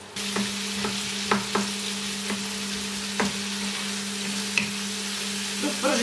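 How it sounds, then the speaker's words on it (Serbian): Onion cut into fairly thick strips fries in hot fat in a pan, giving a loud, steady sizzle broken by a few sharp stirring clicks, with no talk over it. "Dok pržite luk"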